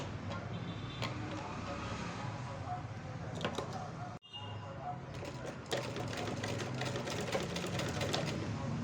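A treadle sewing machine stitches thread piping with a steady rapid ticking whir and a brief pause midway, close and continuous, with a voice talking over it.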